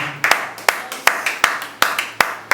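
A church congregation claps in a steady rhythm during worship, about nine sharp, evenly spaced claps, loud and close, with no audible cheering and faint voices beneath.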